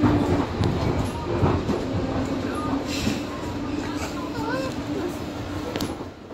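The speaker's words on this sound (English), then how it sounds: "We are on the train." A steady rumble of a moving passenger train approaching Rancho Cucamonga station, with a constant low drone and faint rattling; people talk throughout over the rolling noise.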